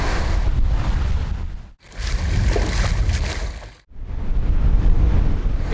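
Wind and surf rush steadily around a sailboat cruising at 7 to 8 knots in 14 to 15 knots of wind on Fijian waters, loud and continuous with wind buffeting the microphone and two brief dropouts.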